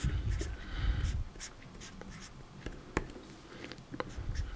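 A Sharpie marker signs a Lucario Pokemon card, with soft scratchy felt-tip strokes in short bursts and brief pauses, close and fairly quiet.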